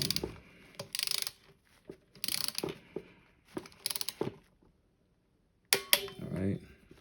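Torque wrench set to 80 inch-pounds clicking as M4 screws are tightened in a star pattern on a Losi 5T RC car, a series of sharp, close mechanical ratcheting clicks in separate bursts with pauses between them.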